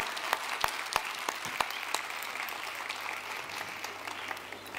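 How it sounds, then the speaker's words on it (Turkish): Audience applause at a book-fair talk in Aksaray, a steady patter of many hands with a few sharper individual claps, moderately distant and fairly soft, with no voices over it. "Vallahi bir alkışı fazlasıyla hak ediyorlar."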